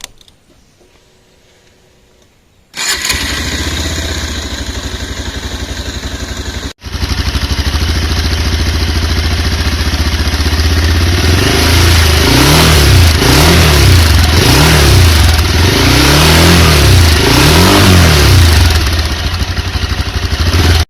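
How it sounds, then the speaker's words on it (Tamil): A 2020 Bajaj Pulsar 220F BS6 motorcycle engine cranks and fires, then idles loudly before a series of rising and falling revs, close up and dominating. "தென் இந்த பைக்கை ஸ்டார்ட் பண்ணுறேன், இதோட நோட்ஸ் எப்படி இருக்குன்னு சொல்லி பாருங்கள்."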